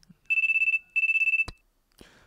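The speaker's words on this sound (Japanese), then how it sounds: "愕然としている僕に携帯が鳴る。" A mobile phone rings in the PSP horror game Hayarigami 3, with two bursts of a bright warbling electronic ringtone. A sharp click follows, then a brief softer noise, all loud and up front.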